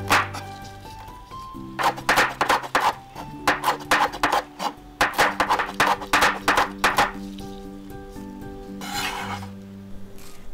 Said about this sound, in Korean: 청양고추, 홍고추도 쫑쫑 썰어주세요.